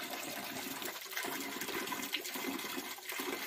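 Water pours steadily from a tiger-head spout along the Shivapuri peak trail, a continuous gushing splash that stays fairly close with no voices over it.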